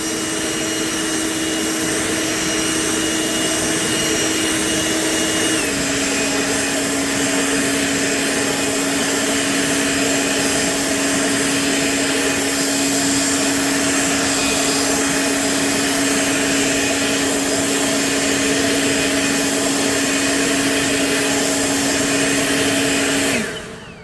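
An EGO LBX1000 1000 CFM battery leaf blower roars loud and close on turbo while clearing a sidewalk, a constant high-pitched whine that steps up in pitch early on and cuts off at the end.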